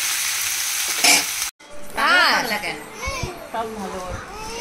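Ginger-garlic paste and tomato frying in a pan give a steady hiss and sizzle with occasional stirring scrapes, broken by a brief gap, while children chatter and shout nearby over the cooking.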